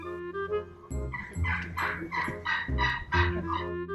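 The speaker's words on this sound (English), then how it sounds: "the turkeys are an irritation" Wild turkeys in a residential neighborhood gobble over and over, several loud, rattling calls in quick overlapping bursts close by, with no voices.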